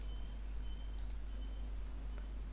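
Mouse clicks during Windhawk mod installation on a Windows 11 computer: a few faint, sharp clicks, including a quick close pair, over a steady low hum.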